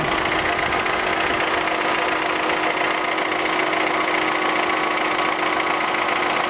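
Refrigeration unit of a dry-wet storage cell running, a steady close mechanical hum and buzz of a compressor with even vibration throughout and no talking.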